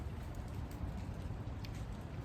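Steady rain falling outdoors near a porch, a soft continuous hiss and patter at low level with no talk, holding evenly throughout.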